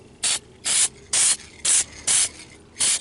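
Six short, regular bursts of an aerosol spray can apply hammered black paint to a Ford Explorer Sport Trac passenger dashboard airbag cover, with brief quiet gaps between each hissing pass, close and clear.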